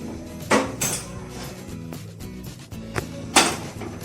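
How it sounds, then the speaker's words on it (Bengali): A kadai is set down on a gas stove before frying palm fruit fritters, with two distinct metallic clanks of cookware against the burner grate amid light kitchen rattling. "আমি গ্যাস জ্বালিয়ে কড়াইটা বসিয়ে নিচ্ছি"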